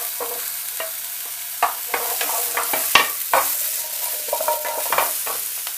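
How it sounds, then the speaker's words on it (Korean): Carrots, potatoes and celery stir-fried lightly in a pan give a steady soft sizzle, broken by a run of sharp scraping and stirring strokes at irregular intervals, close by, with no talking. "자, 이렇게 색이 나지 않게 볶아서 바깥으로 뺍니다"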